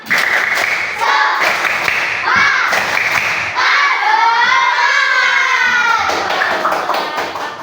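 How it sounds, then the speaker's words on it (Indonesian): A group of primary school children claps in a rhythmic pattern, loud and close, with shouts and voices mixed in. "Ayo semuanya, tepuk semangat."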